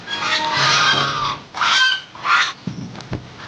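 Ducks at a rural village farm quack loudly and close by in a few harsh bursts, followed by softer shuffling and short knocks.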